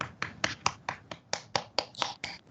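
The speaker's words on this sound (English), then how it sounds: "let's unmute ourselves and applaud for James' talk" A small online audience applauds after a seminar talk: sparse, distinct claps in an irregular rhythm, fairly close and thin, with no crowd roar.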